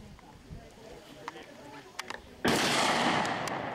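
A single loud, sharp gunshot rings out at an outdoor shooting contest, the Hollandtown Schutzenfest, then decays slowly. Faint background murmur and scattered small knocks come before it.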